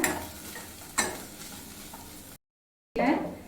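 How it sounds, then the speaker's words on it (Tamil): Turmeric powder and onions sauté in a pan, with a soft sizzle and a couple of sharper scrapes as a utensil stirs, then a brief gap and another stir. "அந்த மஞ்சள் தூளோட பச்சை ஸ்மெல் போகிற வரைக்கும் ஒரு தேர்ட்டி செகண்ட்ஸ் வதக்கிக்கோங்க"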